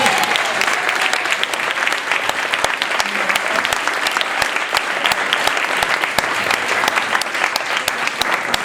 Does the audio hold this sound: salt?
no